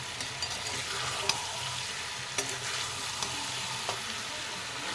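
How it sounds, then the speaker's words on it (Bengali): Cabbage hisses and sizzles in hot oil in a pan over an open flame, a constant fry broken by a few sharp clicks and scrapes as it is stirred. "দেখো খোলা আঁচে নাড়াচ্ছি, তেল বেরিয়ে গেছে"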